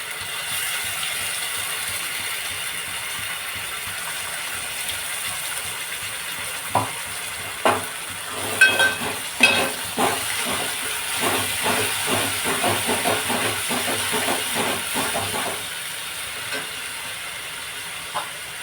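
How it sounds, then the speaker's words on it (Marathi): Green paste hitting frying onions for a Konkani-style prawn curry, a steady hiss of sizzling oil broken mid-way by a cluster of scraping, clattering stirs in the pan, close and without talking. "आता यामध्ये मी हिरवं वाटण घालते"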